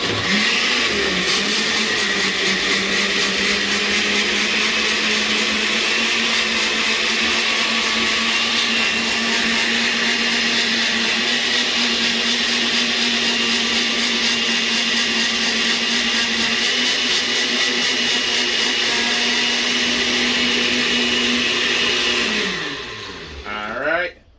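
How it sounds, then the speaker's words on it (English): A blender runs on high, pureeing birria chile paste: a steady, loud motor whine with churning noise that holds for about twenty-three seconds before winding down and stopping. "I'm not sure what this blender going to do. We're going to see what it do today."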